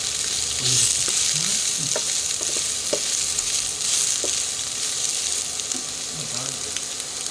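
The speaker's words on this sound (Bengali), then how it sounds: "সেদ্ধ করে রাখা সয়াবিনগুলো দিয়ে দিলাম, দিয়ে একসঙ্গে করে এগুলোকে ভেজে নেব" Steady sizzling of boiled soybean chunks and potatoes frying in a pan, with scraping and stirring clicks from a spatula throughout, close and fairly loud, no talking.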